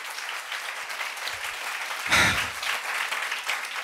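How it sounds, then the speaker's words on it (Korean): Congregation applauding during a church Sunday worship service, a steady wash of clapping with a louder swell in the middle, cheering voices mixed in. "주님께 영광의 박수"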